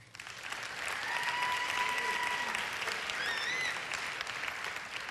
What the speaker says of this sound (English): Let's give them all a big round of applause again.